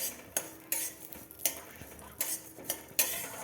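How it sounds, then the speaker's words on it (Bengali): Gobindobhog rice stirred and dry-frying in a pan for a festive rice pudding, with a spoon scraping and clinking against the metal in a steady rhythm of sharp strokes over a faint low sizzle. "একটু নেড়ে চেড়ে ভেজে নিচ্ছি"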